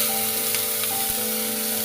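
Bitter gourd sizzling in hot coconut oil with mustard seeds, a steady close hiss of frying with a faint stirring scrape, no talk.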